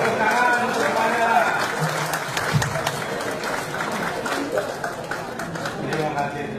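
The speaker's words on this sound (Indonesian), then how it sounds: "Tepuk tangan untuk semuanya." Audience applause at a national meeting, a dense, steady wash of many hands clapping from a crowd, mixed with chatter and a voice speaking over it.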